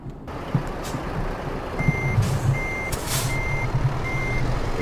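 Reversing beeps from a truck in American Truck Simulator repeat steadily at a high pitch, about once every half second, over a constant low diesel engine rumble with hisses of air brakes.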